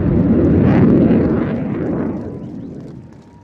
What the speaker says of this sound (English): that was the 2021 Royal Air Force Typhoon display.